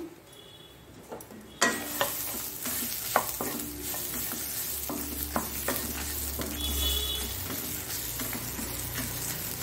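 Two or three garlic cloves fry with coconut masala in a hot pan, giving a loud, steady sizzle over a stretch of repeated scraping and knocking of a spoon against the pan.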